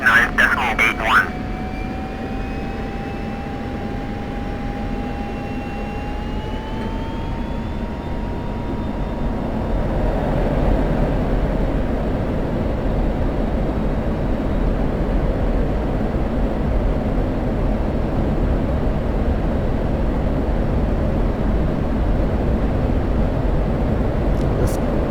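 An F-16C Viper jet takes off in DCS World, its engine whine rising in pitch before settling into a steady, loud roar that builds and holds as the aircraft accelerates, with radio voices over it.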